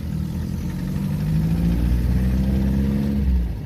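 An MG TD's small engine pulls steadily in second gear and rises in pitch as it accelerates, close and continuous, with no talking.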